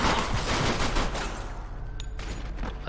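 Gunfire from the Mafia 2 video game on PC, hard mode, sounding as a dense, sustained burst of shots with a continuous roar of action noise throughout, ending with a sharp crack near the end.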